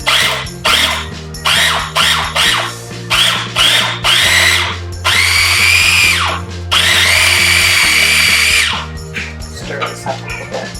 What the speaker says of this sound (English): we're going to process this together, chop these up together, and this is going to be loud